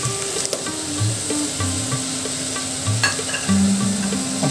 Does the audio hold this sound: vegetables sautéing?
yes